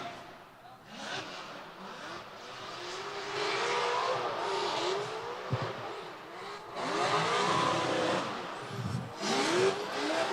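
Drift cars duel in a Klutch Kickers $100,000 Drift Series Top 32 battle, engines revving hard and tires squealing continuously, with loud surges and bursts of skidding throughout.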